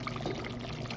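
Water poured into a cooking pot while making Jamaican stewed chicken, a brief steady splashing stream heard close up and fairly quiet.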